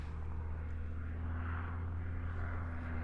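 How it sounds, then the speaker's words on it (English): A One Design aerobatic aircraft drones steadily as it comes in to land on a grass runway at an aerobatics championship, a continuous engine and propeller hum at moderate distance with no talking. "Stuart coming in the one design, bringing it into land with that familiar crabbed"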